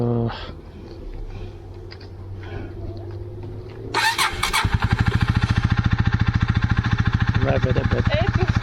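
125cc motorcycle on a crossing of the high Alps, cranking briefly then firing up into a loud, rapid, even idle thump close by, with people talking over the quieter cranking beforehand.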